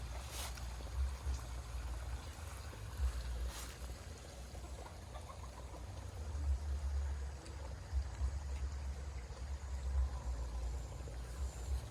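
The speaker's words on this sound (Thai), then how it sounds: "นเสียงน้ำ เสียงน้ำตก" Steady rushing water of a waterfall with a low rumbling roar, continuous and fairly loud throughout.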